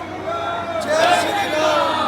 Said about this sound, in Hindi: हम जो है मंदिर में कर चुके हैं, बहुत भीड़ है मंदिर में।